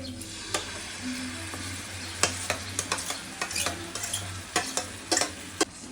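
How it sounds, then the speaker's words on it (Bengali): Mango pieces with turmeric and chili powder sauté in a pan for mango chutney, with a low steady sizzle beneath irregular sharp spatula scrapes and clicks from repeated stirring. "এখন এগুলো খুব ভালো করে কষিয়ে নেব"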